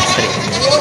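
A goat bleats briefly at a livestock market in Padre Garcia, Batangas, with voices talking over a busy background.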